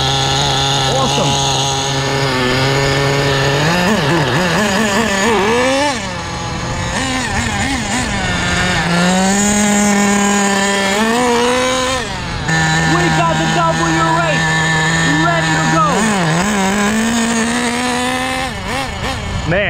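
An HPI WR8 nitro rally RC car with a freshly tuned idle buzzes loud and close, its small engine whining up and down in repeated rev swells as it drives, with talk over it.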